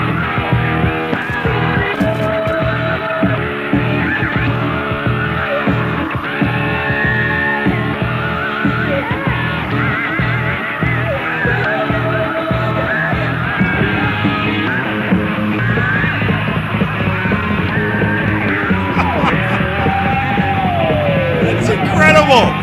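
Screams play back from a compilation: loud, high, sustained rock yells, one after another without a break, over dense music.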